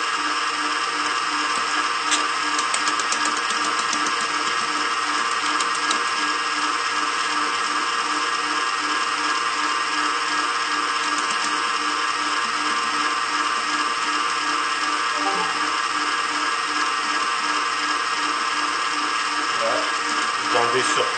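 An electric mixer beats génoise sponge cake batter, a steady high whirring drone that runs unbroken and close, with a voice talking over it.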